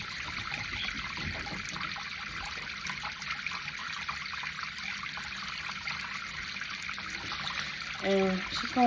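Water running into a warm saltwater bath: a faint, steady trickle and splash filling the tub, low and continuous, with a brief voice near the end.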